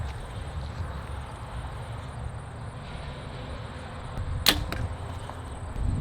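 Arrow shot from a Mathews Phase 4 bow into a target at about twenty yards: one sharp, loud snap of the release and impact over a steady outdoor hiss, followed by a faint second tick.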